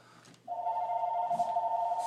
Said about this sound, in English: Phone's ringing, phone's ringing, phone's ringing.